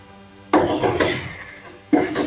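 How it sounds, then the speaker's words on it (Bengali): Pre-fried potatoes tipped into a hot oiled pan of masala for a Bengali lentil fritter curry, landing with two loud clattering sizzles close by, the second shorter. "এবার আমি আগে থেকে ভেজে রাখা আলুগুলো দিয়ে দিলাম"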